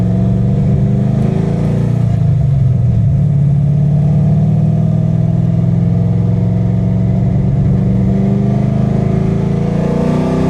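A car engine hums steadily and loud throughout a drive, a low continuous drone with slight pitch shifts as the vehicle moves, no voices over it.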